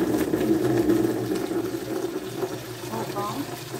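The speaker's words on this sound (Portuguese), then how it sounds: "Vou colocar água." Water is poured during house cleaning, a steady splashing, filling rush heard close up, fading slightly toward the end.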